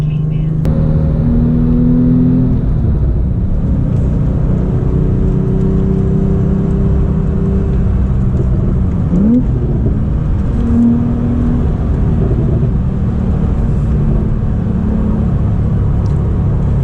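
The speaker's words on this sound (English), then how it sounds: "when you drive on the highway, there's a lot of road noise" Steady low rumble of tires on the highway inside a moving Porsche 911, a constant droning hum filling the whole stretch with faint rear-engine whir underneath.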